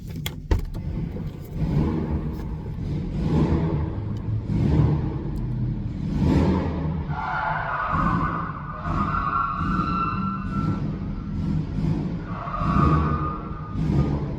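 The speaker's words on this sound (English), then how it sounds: "y'all gotta hear how garbage this Miata sounds" A Mazda Miata engine revs and drones steadily in the foreground, with surging, uneven rises and falls in pitch from a roughly running motor, no speech.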